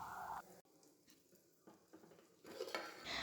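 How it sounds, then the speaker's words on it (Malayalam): A lid goes onto a pan of prawn roast with a few metallic clinks and scrapes, close and clear, followed by a soft sizzle. "അടപ്പ് കൊണ്ട് മൂടി ഒരു 3 മിനിറ്റ് നമുക്ക് സിമ്മിലിട്ട്"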